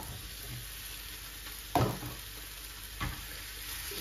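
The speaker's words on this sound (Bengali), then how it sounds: "এখন কাঁকরোল গুলা ঢাইলা দিব" Spiny gourds (kakrol) hit a pan of hot oil with chillies, giving a soft, low sizzle with a sharper burst as they drop in and another stir-like clatter shortly after, with no talking.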